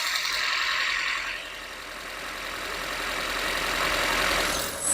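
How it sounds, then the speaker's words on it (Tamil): Maruti tall-boy hatchback engine idling up close, a steady, fairly quiet mechanical hum with a faint rattle, alone without talk. "அந்த இன்ஜின் நாய்ஸ் கண்டிப்பாக கேட்டுருப்பீங்க."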